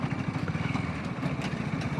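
A motorcycle rides over a badly potholed road with a steady, rough, close engine rumble that pulses slightly throughout. No voices are heard.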